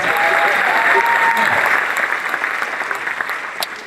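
Stand-up comedy club audience breaking into applause with some cheering, loud at first and gradually thinning out as the clapping fades.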